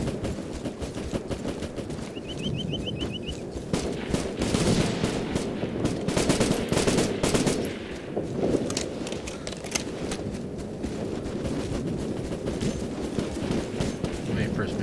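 Rapid bursts of automatic gunfire in a military simulator game, repeated close cracks and rattling volleys in clusters, with talk running underneath.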